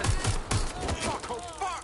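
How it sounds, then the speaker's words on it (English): Gunfire in the video game Watch Dogs Legion: a rapid burst of loud, close shots in the first half, fading into a shouting voice and electronic warbling tones. "They're shooting at us!"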